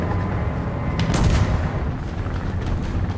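Gunfire and explosions in the War Thunder tank game during a realistic ground battle with a T-26, a loud rumbling burst of shots around the middle over continuous low battle noise.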